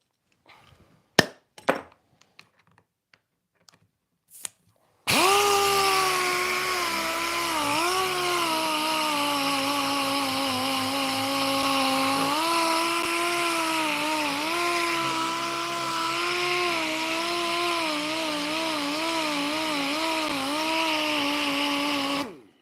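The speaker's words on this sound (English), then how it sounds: "There's the sander." A power sander runs steadily in a woodworking shop for about eighteen seconds, loud and close with a constant whine, after a few brief knocks and clatters of work at the bench.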